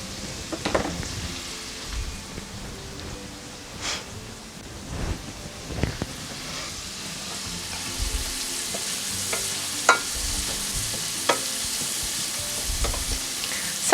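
A shrimp-and-grits base fries in olive oil with Old Bay seasoning. It gives a continuous close sizzle with scattered louder pops and scraping stirs throughout.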